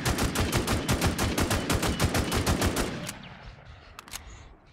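Rapid automatic AKM rifle fire in the online survival shooter Infestation: a loud, steady burst of about eighteen evenly spaced shots lasting three seconds, then stopping abruptly, followed by a few faint distant clicks.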